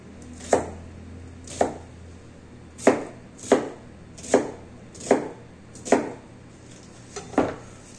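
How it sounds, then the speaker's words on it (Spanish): A knife chops an onion into medium pieces: about eight distinct, evenly paced cuts land roughly once a second, each a sharp close thud against a quiet background. "La cebolla también igual en trozos pequeños."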